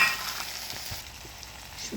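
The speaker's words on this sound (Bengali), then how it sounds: "শুটকিটা ঢেলে দিলাম।" Dried fish (shutki) frying in a pan with onions browned in oil, a soft steady sizzle that holds through the short stretch with faint stirring scrapes, no voices.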